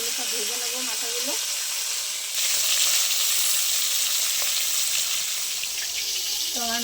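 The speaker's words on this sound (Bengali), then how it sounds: "এইভাবে মাছগুলো সব ভেজে নেবো, মাথাগুলো।" Fish heads fry in hot oil with a steady, close sizzle and hiss that continues throughout. Brief background voices can be heard at the start and near the end.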